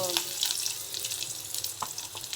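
Chopped onion hits hot oil with cumin and mustard seeds, giving a steady, close sizzle and crackle that runs without a break.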